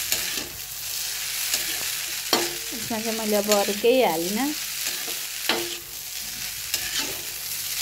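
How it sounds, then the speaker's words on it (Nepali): Eggs frying and being stirred in a pan with a child's food, a continuous close sizzle with spoon scrapes, under a voice talking in the middle. "अब हामी सादा तरिकाले अन्डा र माम भुट्दैछु हेर्नु है।"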